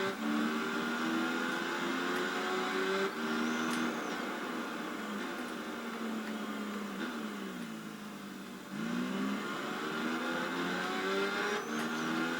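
Race motorbike engines from the Tourist Trophy motorcycle racing game whine loudly and steadily, with pitch climbing through the gears and briefly dropping on a shift before rising again, heard close with no voice over it.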